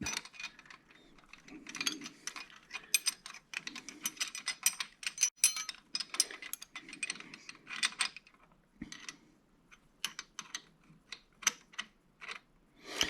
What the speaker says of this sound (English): I'm tightening the jam nut or the lock nut.